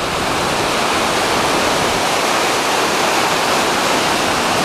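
A roaring river in a gorge near waterfalls at Palaiokarya, Greece, rushes in a constant, powerful wash of white noise, loud and unbroken throughout.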